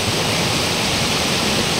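Small stream of water flowing from a farm field beside a creek: a dense, even, hissing rush close by, steady throughout, with no talk.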